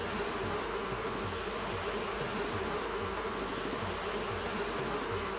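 A dense, unbroken swarm buzz of angry wasps in Animal Crossing New Horizons, loud and close, droning without pause throughout.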